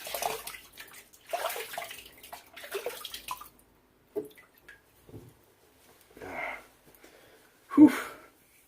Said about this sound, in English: Let's throw a rinse on this.